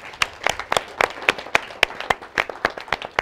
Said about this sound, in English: can we all give a clap offering to our fathers?